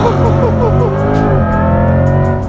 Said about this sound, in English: In the 2024 Corvette E-Ray, baby, and we're about to launch this thing.